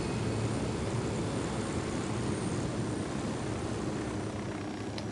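Helicopter rotor and engine drone from the video game Ghost Recon Wildlands, a steady dense low-frequency thrum holding evenly for the whole stretch with no talk over it.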